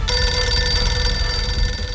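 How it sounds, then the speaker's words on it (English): A telephone bell rings loudly and continuously, a bright, sustained metallic ring filling the moment with no voices over it. "A moment later, the phone rang."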